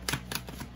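Tarot cards drawn from the deck, three quick soft papery flicks and slides in close succession, quiet and near, with no talk.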